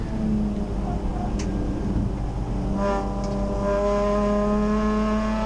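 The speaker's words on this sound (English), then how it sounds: "The mighty VQ35 sings the song of its people on the run down to turn 2" Nissan race car with a VQ35 engine running on a track at Hampton Downs while chasing a small Toyota, its steady engine note rising in pitch toward the end and continuous, with faint talk underneath.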